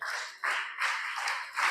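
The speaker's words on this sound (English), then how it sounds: "Let's clap for him." Audience at a youth event clapping for a speaker, a steady wash of applause swelling in bursts with brief dips, fairly close and alone without talk.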